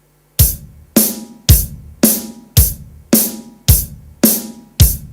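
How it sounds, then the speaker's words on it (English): An electronic rhythm pad tapping a fast 2/4 beat, eight sharp evenly spaced hits with decaying tails, loud and close with nothing else behind them. "now if you play this 2/4 beat a little more faster, it may sound like this"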